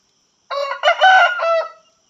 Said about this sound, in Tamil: சேவல் குவிரிச்சு